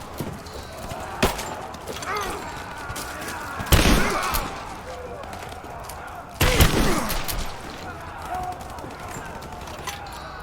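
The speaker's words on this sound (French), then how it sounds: "On subit des traits! Occupez-la! Tire de suppression!" Bursts of suppressive gunfire crack and echo through a battle in the video game Rise of the Tomb Raider, with shouted voices, footsteps and scattered impacts between two loud volleys.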